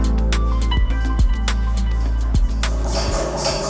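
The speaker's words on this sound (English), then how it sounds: "That's the sound of the liquid helium being pumped into the cryostat," Pump circulating liquid helium into the cryostat in the hub of a cryogenically cooled antenna, where the feed is housed; a steady mechanical hum and drone runs throughout with a few soft clicks, and no one speaks.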